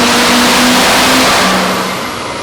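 A turbocharged engine on a dyno revs up steadily and loudly past 3,700 RPM, a broad roar with a rising turbo whine running over it, no voices.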